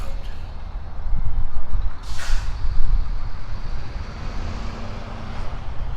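Heavy trucks rumble steadily in the background on their way to a dump, with a low continuous engine drone and a brief hissing burst like an air brake.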